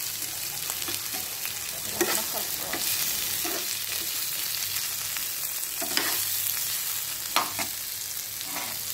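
Bitter gourd being stirred and fried in a pan, a continuous close sizzle broken by occasional scrapes and clinks of the spoon, with no voices.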